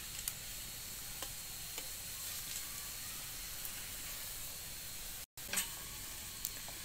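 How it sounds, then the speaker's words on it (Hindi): Gujiya sweets frying in oil in a village kitchen, a faint, steady sizzle and hiss with a few soft ticks, briefly cut off by a short gap near the end. "ये तो तैरने लगा है तेल में।"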